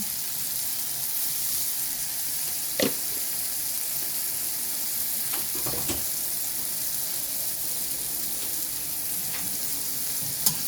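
Eggs sautéing with tomato and onions in a pan, seasoned with pepper and chicken powder, a continuous low sizzle with a few sharp utensil clinks against the pan, no talking.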